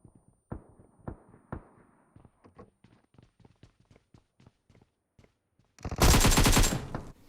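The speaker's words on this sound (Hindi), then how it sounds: "टॉमी और शॉटगन से स्क्वाड वाइप कर रखी है।" Tommy gun and shotgun fire in the mobile battle game BGMI: scattered single and short bursts of shots, then a dense, loud sustained volley of automatic fire near the end.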